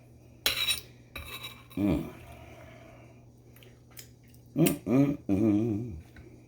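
A utensil scooping fresh food off a pan onto a plate: a few sharp metallic scrapes and clinks, spaced irregularly, close and fairly quiet, with a low steady hum beneath.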